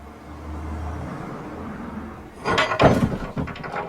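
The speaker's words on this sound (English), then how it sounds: "a car drove past literally moments before this happened" A car drives past outside, a low rumble fading in the first second, followed by a sudden clatter of an object falling and knocking about nearby, loud and brief, with no talking.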